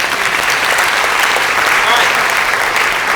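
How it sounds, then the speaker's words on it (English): An audience breaks into loud, continuous applause at a talk, a thick wash of clapping that runs unbroken throughout, with a few voices mixed in. "so big round of applause for that."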